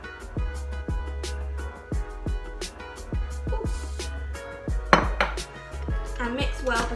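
Buttercream and icing sugar being mixed in a bowl, with repeated clinks and knocks of a utensil against the bowl in an uneven rhythm, close and fairly loud, a few sharper scrapes near the end.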